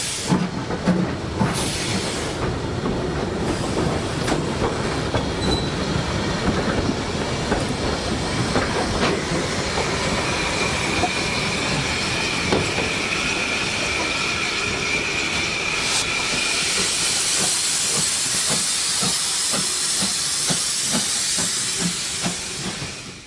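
Steam locomotive 43106 pulls away with its train at a Severn Valley Railway spring steam gala, sending out loud continuous steam hissing over rhythmic chuffing and the rumble and clatter of the carriages, close and sustained, with no speech.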